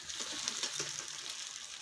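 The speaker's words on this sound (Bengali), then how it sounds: "এরকম ভালো করে কষাই নিচ্ছি মাংস।" Country chicken meat sautéing in a pan, a soft, steady sizzle with faint crackles running throughout, fairly quiet and close, with no talking.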